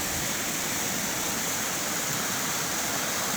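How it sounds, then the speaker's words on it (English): Kirkwood Creek pouring into the Snake River in Hells Canyon, Idaho: a dense, constant rush of flowing water, loud and close, with no other sounds. "That's a Kirkwood Creek going into the Snake River"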